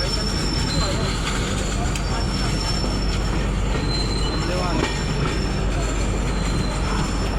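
The 12859 Gitanjali Express pulls into Rourkela station with a continuous heavy rail rumble and high, sustained wheel squeals as it slows.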